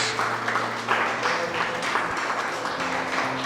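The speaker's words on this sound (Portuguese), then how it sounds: "Dê uma salva de palmas para Jesus." A church congregation applauds steadily with dense, continuous clapping, while a low sustained tone hums beneath it.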